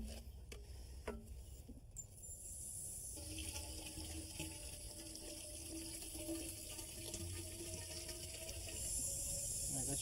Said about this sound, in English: we're going to clean it out with the hose